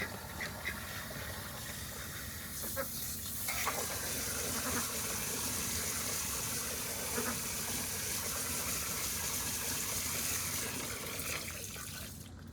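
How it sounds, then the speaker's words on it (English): Water gushes steadily from a hose into the ducks' small swimming pool, a broad continuous rush that swells after a few seconds and holds. Occasional duck quacks sound underneath. "I'm gonna dump it and fill it up."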